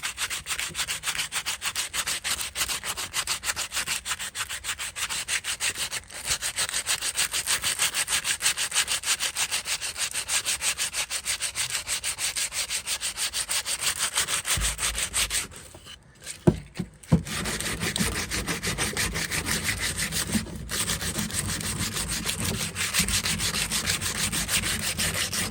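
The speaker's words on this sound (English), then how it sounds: "Give it a go with sanding." Sandpaper rubs back and forth along the wavy edge of a piece of wood in a steady scratchy rhythm, close up, with one short pause partway through and no talking.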